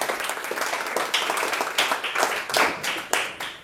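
A church congregation claps and cheers together, with a dense, continuous burst of hand claps and crowd noise that swells slightly toward the end.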